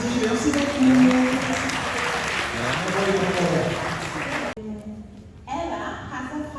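An audience claps through a school musical of "All About Ella," producing a dense, steady patter for about four and a half seconds before it cuts off abruptly, followed by quieter sound with a voice.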